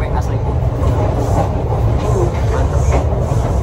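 Steady rumble and rolling noise inside a KA Serayu passenger train on the southern line from Jakarta to Purwokerto, continuous and fairly loud throughout.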